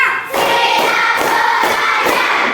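A classroom group claps together in an energetic rhythmic cheer, loud and close, with regular bursts of hands striking in a patterned beat after a brief dip at the start.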